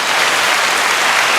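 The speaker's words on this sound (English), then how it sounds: "Can we get some hand claps for that response he had" A burst of hand claps and applause, dense and loud, holding steady for about a second and a half before cutting off abruptly.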